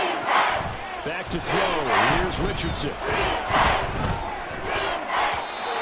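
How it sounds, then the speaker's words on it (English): A stadium crowd roars steadily inside a domed arena during an American football game on third and goal, the loud surging din running under an excited play-by-play commentator throughout. "The crowd here in the Dome making things difficult."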